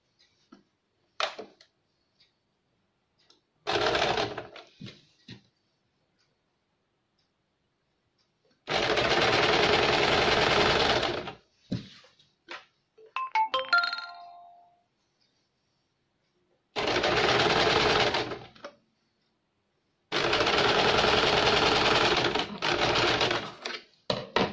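A sewing machine stitches the sleeve onto a four-tuck blouse in several loud, sustained runs of rapid needle clatter, separated by silent pauses and a few short clicks and taps.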